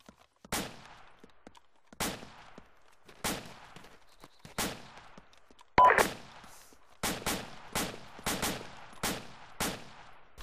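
Video game gunfire: single sharp shots spaced a second or two apart, then a quicker cluster of cracks, each decaying with a short echo against a quiet background.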